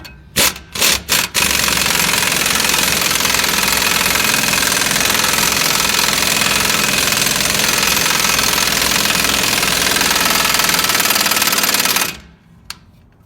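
A powered tool driving a socket to press a wheel stud into a car hub starts with a few short bursts, then runs in one loud, continuous rattling hammering for about ten seconds before stopping.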